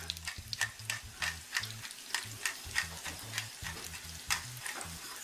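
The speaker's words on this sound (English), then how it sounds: "We got our pork butt browning off here" A pork butt browns in a pan with a steady sizzle, punctuated by rhythmic clinks and scrapes of a utensil, close and without speech.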